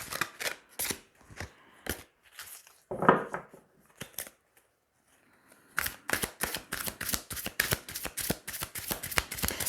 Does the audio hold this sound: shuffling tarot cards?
yes